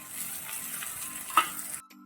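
Chopped onion and tomato sizzle together in a hot pan, a steady bright frying hiss with a louder stirring scrape near the middle, stopping abruptly just before the end.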